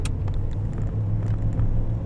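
A 1980s IROC-Z muscle car with a 215 hp engine cruises straight down a road, a steady low engine rumble and road noise heard from inside the car, with no talking.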